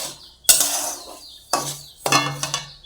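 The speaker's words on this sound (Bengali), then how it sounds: "আর এদিকে হচ্ছে মানে সুজি ভাজছি" Semolina roasting in a pan, with several sharp scraping and clinking strokes of a spoon against metal, close and distinct with quiet gaps between them.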